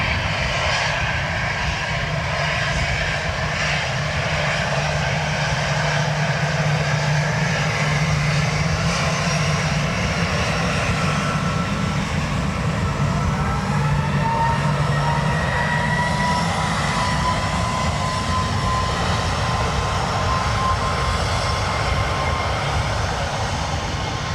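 Jet engines of a Lufthansa airliner at Dublin Airport on a wet, windy day, a steady loud roar that holds for the whole stretch with a faint rising whine, and no one talking.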